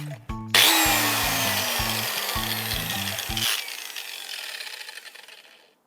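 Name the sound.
disc grinder cutting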